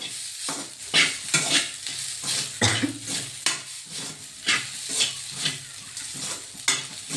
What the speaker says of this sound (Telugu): బాగా కలుపుకొని